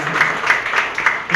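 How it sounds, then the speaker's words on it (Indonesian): Applause for the headmistress at a school outreach gathering: a short, steady patter of many hands clapping in a room, moderately loud and without voices. "kita berikan tepuk tangan buat ibu kepala sekolah"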